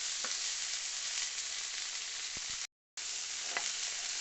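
Kidneys fry in a pan, a steady close sizzle and crackle with a few sharp pops, broken by a brief dropout of silence, with no talk.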